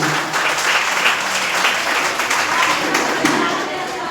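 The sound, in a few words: crowd applause for the sponsor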